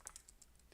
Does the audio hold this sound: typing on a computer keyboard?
yes